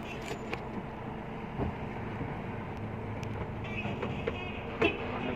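Large Hino truck rolling slowly on a test drive, a steady low engine and road rumble with cab rattles and a few sharp knocks, no talk.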